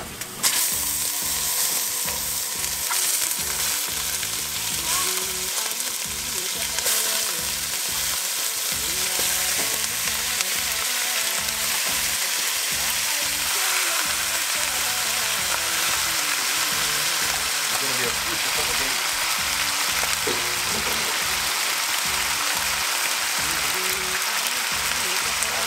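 Oxtail pieces brown in hot oil in a pan, giving a loud, continuous crackling sizzle with irregular pops and spits throughout.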